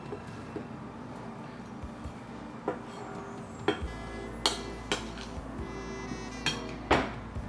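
Dry ingredients of flour, cocoa powder, salt and baking powder being mixed in a bowl for an eggless chocolate loaf cake, with scattered utensil clinks and light taps against the bowl over a soft background, no talking.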